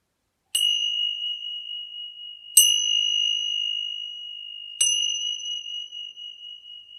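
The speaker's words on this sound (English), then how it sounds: "So we ring the chimes" Three clear chime strikes ring out one after another, each bright tone sustaining and slowly fading into silence.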